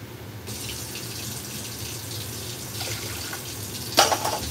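Water runs steadily from a kitchen tap to measure water for cooking rice, a constant close hiss of flow, with a brief clatter near the end.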